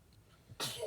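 A single short, sharp sneeze bursts out near the end after a moment of quiet room tone.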